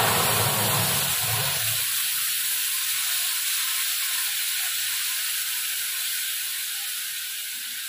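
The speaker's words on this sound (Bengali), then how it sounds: "চলুন মশলাটা আবার দিয়ে কষিয়ে নিই।" Spice paste of ginger, tomato, cumin and ground spices frying in a pan, a steady broadband hiss and sizzle that is loud at first with some low clatter, then settles into a constant crackling fry with no talk.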